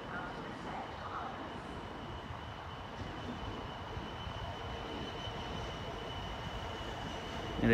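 Freight train hauled by locomotive 66107 passing through Stafford on the West Coast Main Line, a steady distant rumble of wagons rolling by with faint wheel noise and a thin tonal whine, fairly quiet throughout.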